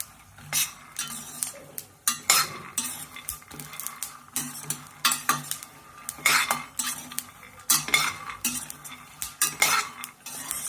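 Peanuts are stirred while roasting in a hot kadai, with a metal spoon scraping and clinking against the pan in quick, irregular bursts. The strokes are close, fairly soft and continuous, with no talking.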